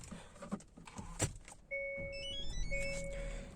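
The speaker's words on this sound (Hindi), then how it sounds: "फर्स्ट ऑफ ऑल हम गाड़ी को स्टार्ट कर लेते हैं।" A Hyundai Alcazar starts up with a sharp click and a starter whir, then settles into a steady idle hum while electronic chimes ring over it, all heard close from inside the cabin.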